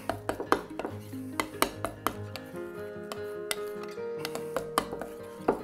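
A utensil stirs colourant into a paste for a decorative finish, making light, repeated clinks and scrapes against a container at an irregular rhythm, close and fairly quiet.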